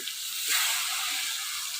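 Pumpkin slices fry in a pan, a close, steady bright sizzle of hot oil that holds evenly for under two seconds.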